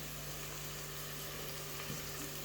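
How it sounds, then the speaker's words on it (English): Steady, quiet sizzle of onions frying in a pan for spaghetti bolognese, a constant crackling hiss with no talking. "Frying up the onions just a little bit"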